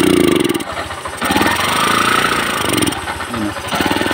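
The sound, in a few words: motorcycle engine idling after carburetor cleaning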